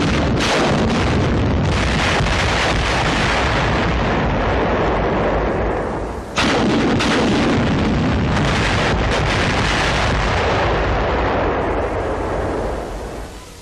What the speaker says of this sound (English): 10 rockets are fired at the pillbox.